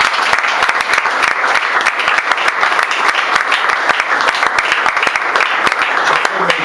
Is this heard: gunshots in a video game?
no